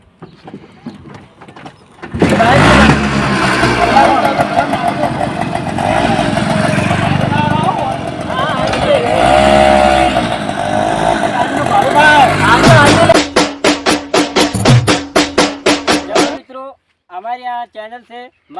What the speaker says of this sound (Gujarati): તમે ગાડી ચાલુ કરો